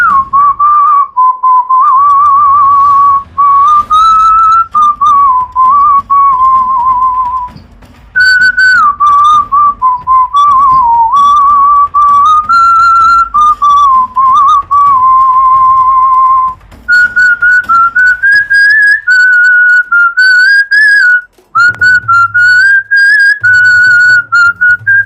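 A man whistles the melody of a Hindi film song, loud, clear and sustained with fluid pitch bends and brief pauses, over faint background accompaniment.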